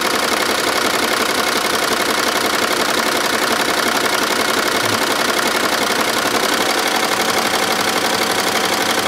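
An embroidery machine runs at about 700 RPM, stitching a design of roughly 5,000 stitches onto a cooler bag held in a magnetic hoop, a steady rapid mechanical chatter that is loud and constant throughout.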